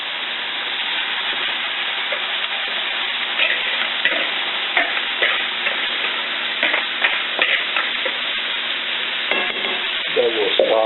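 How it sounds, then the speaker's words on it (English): Chopped onions and vegetables go into a dark black roux for gumbo, frying with a steady close sizzle and hiss while a spoon scrapes and stirs through the pan in repeated rough strokes. "So now I'm going to just start adding onions and everything in this."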